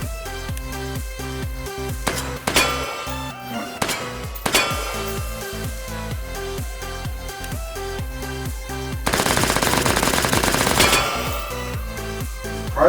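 P90 firing in the VR shooting game H3VR, several sharp single shots early, then a dense automatic burst for a couple of seconds, all over a constant droning tonal background.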